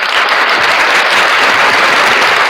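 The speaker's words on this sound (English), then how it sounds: "Let's give him a round of applause." A crowd at a gathering applauds a prosecutor, a loud, dense, continuous wash of clapping throughout with no talk over it.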